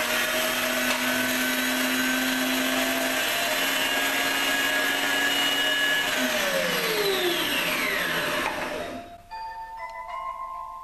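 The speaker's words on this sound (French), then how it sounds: "On va mettre donc le chocolat dans le iCooking 10 secondes en vitesse 9, donc le but est de le broyer." An iCook food processor grinding chocolate at speed 9 whirs loudly and steadily for about nine seconds, its motor pitch sliding down as it spins to a stop, leaving faint mechanical ticking.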